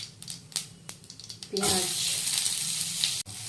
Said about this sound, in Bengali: পেঁয়াজটা ভাজা হয়ে গেলে টমেটোটা দিয়ে দেবো।